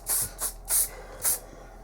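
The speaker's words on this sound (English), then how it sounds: "I'm just going to use my Osis, I love their hairspray too, elastic finish" Osis Elastic flexible hold hairspray is sprayed from a can in four short, close hissing bursts, with the second and fourth briefer than the others.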